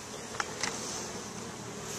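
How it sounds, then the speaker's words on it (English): Honey bees hum steadily at an open beehive, a continuous close buzz throughout with a couple of brief louder passes. "Smoke kind of calms the bees"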